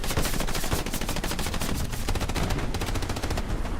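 Dense, continuous automatic gunfire in the World War II shooter Hell Let Loose during a competitive match, with rapid overlapping bursts filling the whole stretch at a loud, steady level.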